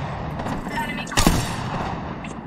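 A single sharp, loud sniper rifle shot in the battle royale game Apex Legends, a sudden crack with a brief decaying tail over steady game ambience.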